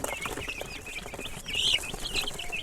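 Chickens on a small Turkish poultry farm cluck in short, repeated calls at moderate distance over steady farmyard background noise, with a slightly louder burst of clucking midway and no talking.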